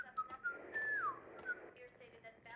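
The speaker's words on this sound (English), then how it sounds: "Who's whistling?" A person whistles a short, wavering melody with a few rising and gliding notes, fairly close and alone over faint room noise, set during a game-playing session.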